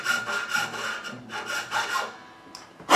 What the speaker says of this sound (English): you can see how much further we're having to cut into this nut